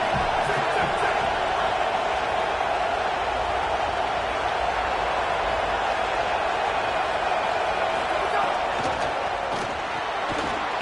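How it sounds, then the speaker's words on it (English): A home crowd roars at a football video game in the Madden or NCAA series, a dense continuous wall of cheering with scattered whoops, loud and sustained throughout. "how nice is it to have the home crowd going absolutely bananas?"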